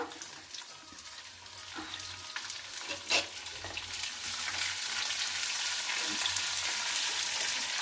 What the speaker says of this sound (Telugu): ఇప్పుడు ఉల్లిగడ్డలు వేస్తున్నాను